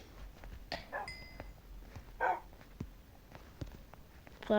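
A tamed dog in the Minecraft video game lets out a few short barks and yips spaced across the clip, mixed with soft game clicks and footsteps at modest volume, without talking.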